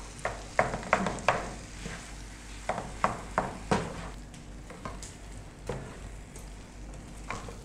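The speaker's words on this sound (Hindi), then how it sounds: "इसको हमने मसाले में मिक्स करके भून लेना है" Mashed potatoes being stir-fried in masala with black pepper for aloo bharta: a spatula scrapes and taps the pan in quick irregular bursts over a low, steady sizzle, fairly close, with no talking.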